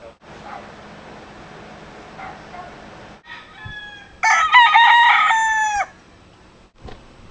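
Roosters kept for cockfighting crow loudly and close, one long harmonic call standing out over a murmur of background talk and quieter clucking.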